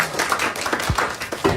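A small audience at a jazz performance in a radio studio claps in scattered, uneven bursts, close and fairly loud, with a few heavier thumps mixed in.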